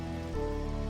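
Light spitting rain patters on a treehouse deck in Chiang Mai, Thailand, a soft continuous patter close by that thickens slightly partway through, with no voices.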